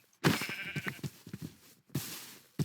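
A few short, nasal sheep bleats from the video game Minecraft in quick succession, fairly close and clear, with brief pauses between them.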